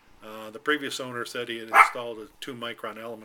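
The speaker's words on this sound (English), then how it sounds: "She's a terrier, and the recycling guys are out there, so she has to bark at them" A terrier barks at recycling collectors outside, a string of sharp, fairly close barks in an uneven rhythm, with someone talking over them.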